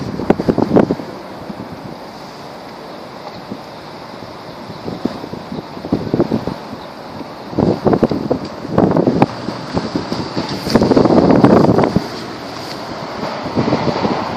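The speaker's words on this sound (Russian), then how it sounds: "Сильный ветер." Strong wind gusting outdoors by a monument to Peter I, buffeting the microphone in loud irregular bursts over a steady low rush, with no talk.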